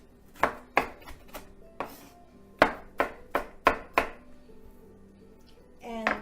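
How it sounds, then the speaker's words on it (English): Half a small onion chopped with a knife on a board: about ten crisp, sharp knocks arriving in quick irregular bursts, close and clear, with quiet gaps between them and soft kitchen clatter near the end. "And so we finally chop the onion"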